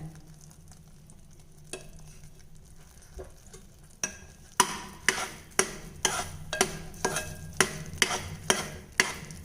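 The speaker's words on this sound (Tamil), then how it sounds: "கீழே மட்டும் அடியில் பிடிக்காமல் கிளறிட்டே இருங்க" A milk powder burfi mixture is stirred in a pan, quiet at first, then a spoon scrapes the pan in a steady rhythm of sharp, close strokes over a soft sizzle.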